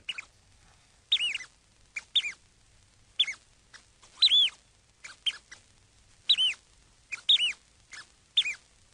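Reel-to-reel tape playback of a bird recording, with a series of bright chirping calls and trills in bursts about a second apart against a quiet background.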